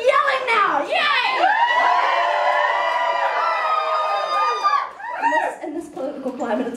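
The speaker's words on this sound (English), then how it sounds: "We're gonna do some yelling now." A live-show crowd yells and whoops together in a loud, sustained collective shout that rises, holds for a few seconds, then breaks into scattered cheers and laughter, with a host's voice at the start.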